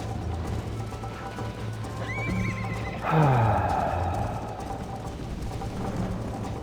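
A horse whinnies loudly up close in the video game Red Dead Redemption, a sharp rising neigh that falls away, with hooves clip-clopping steadily before and after.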